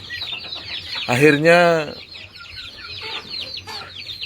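Chickens cluck in a coop, a loud nearby squawk standing out among softer scattered clucks and chirps, with a brief spoken word.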